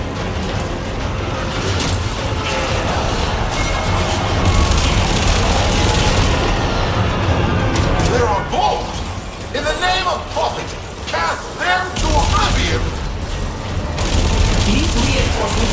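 Rapid turret gunfire bursts and booming impacts in the Warframe Railjack space combat game, loud and dense, with bursts of rattling fire and explosions mixed with a voice talking over the action.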